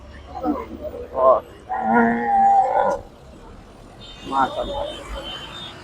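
Large cattle at a busy night livestock market before Eid sacrifice, lowing in several loud nearby moos, one long drawn-out call in the middle and shorter ones around it, with market noise in the background.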